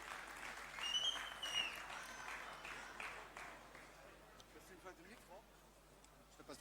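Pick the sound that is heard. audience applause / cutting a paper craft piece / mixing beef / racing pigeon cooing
audience applause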